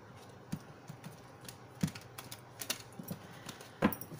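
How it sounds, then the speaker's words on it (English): Soft, scattered taps and clicks of tarot cards being shuffled close by, with a few sharper snaps, in a quiet room without speech. "one more shuffle."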